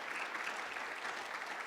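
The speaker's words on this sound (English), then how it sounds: "So how about a round of applause for the people who've completed our OMI program?" Steady, quiet applause from an audience at a guide dog school graduation, honoring people who completed the program, a dense even patter heard from a distance with no voices on top.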